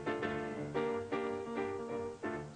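Instrumental rendition of the swinging opening of a song recast in the ordinary minor mode, with clear rhythmic chords and melody in short repeated accents, heard alone at moderate volume.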